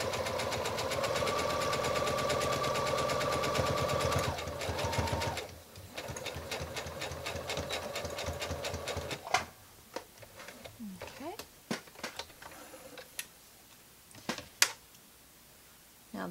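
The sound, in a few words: sewing machine stitching a seam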